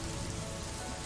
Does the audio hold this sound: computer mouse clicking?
no